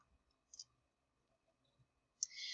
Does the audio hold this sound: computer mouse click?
yes